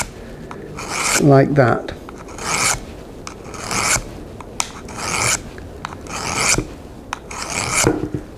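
Secateurs blade drawn along its bevel against a sharpening tool, giving a rasping, grinding scrape in repeated strokes, close and fairly loud, with a brief spoken remark partway through.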